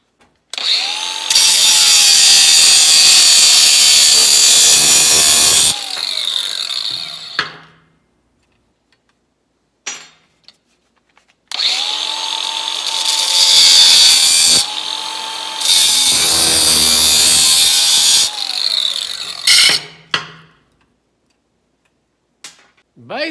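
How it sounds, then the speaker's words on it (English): A power tool cuts a metal return pipe on a Jeep CJ fuel tank in two long, loud whining bursts separated by a short pause, each ending in a quick spin-down with a few clicks between. "I think I'm gonna cut that pipe."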